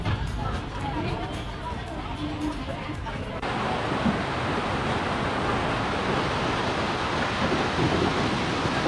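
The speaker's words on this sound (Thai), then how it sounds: "อยู่ๆ ฝนก็ตก" Rain suddenly starts falling in Preah Sihanouk province, Cambodia, a broad hiss that jumps abruptly louder partway through and then holds as a steady, dense downpour.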